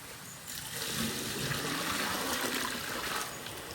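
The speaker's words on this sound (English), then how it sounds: "you have to throw in the water into the pot here now" Water pours steadily into a cooking pot of chana for a few seconds, a close, continuous splashing trickle that swells and then tapers slightly.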